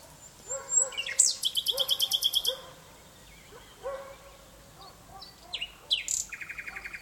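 A nightingale perched on a pine tree outdoors sings in quick rhythmic trills and chirps, moderately near. A dog barks faintly in the background and no one speaks.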